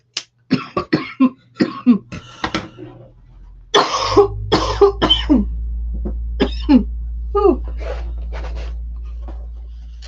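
A run of sharp, dry coughs repeats in uneven bursts, close to the microphone, while a low electrical hum comes in partway through.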